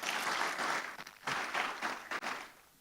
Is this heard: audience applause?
yes